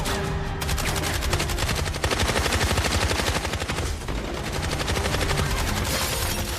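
Gunfire in an intense film firefight: rapid automatic bursts with sharp repeated cracks that run almost continuously, loud and close, with only brief gaps between volleys.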